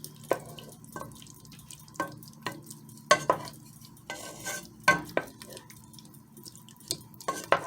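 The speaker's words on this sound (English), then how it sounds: "Go ahead and stir that all in." Beef pot pie filling gets stirred in a pot after red wine is added over medium heat, with repeated spoon scrapes and knocks against the pot and a soft bubbling simmer in between, close and moderately loud.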